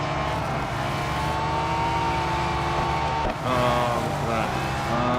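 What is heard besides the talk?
racing cars on track in video game Real Racing 3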